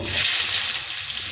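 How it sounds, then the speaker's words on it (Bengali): Onions frying in hot leftover oil after fish has been fried, giving a loud, close, continuous hiss and crackle with no talking. "পেঁয়াজটাকে আমি লাল করে আগে ভেজে নেব"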